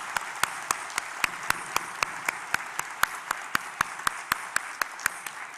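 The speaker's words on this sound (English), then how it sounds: "Please join me in another round of applause to recognize our graduates and our guests together." Rhythmic, evenly spaced hand claps at a graduation ceremony, about three per second, crisp and fairly close, with no talk over them.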